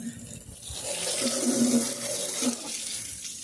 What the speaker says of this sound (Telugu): సో ఇప్పుడు వాటర్ అయితే అప్లై చేస్తున్నాం